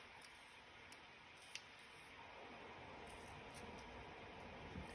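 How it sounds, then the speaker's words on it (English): Scissors snip out paper labels for an accordion junk journal, with small soft cuts and a few faint clicks over a steady low room hiss, close and quiet throughout. "just quickly just cut these out."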